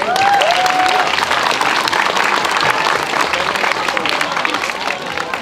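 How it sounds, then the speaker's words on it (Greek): Applause for the winner at a 2024 athletics meet for athletes with disabilities: loud, steady crowd clapping throughout, with faint voices and a brief whistle-like tone near the start. "Χειροκρότημα στον νικητή."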